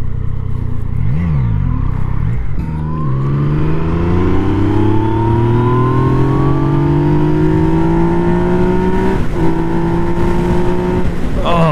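A 2017 Yamaha FZ/MT-09 motorcycle engine revs up through the gears, its pitch climbing in long rising sweeps with brief dips at each shift, loud and close throughout.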